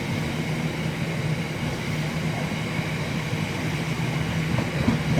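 An aggregates freight train rumbles past close by at Reading West, a steady, loud roar of wheels and wagons with a continuous low drone throughout.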